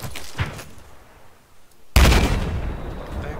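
Gunfire in the Battlefield 4 Obliteration match on Lancang Dam: a soft distant pop early, then a loud close burst of shots and rumble that stays heavy to the end.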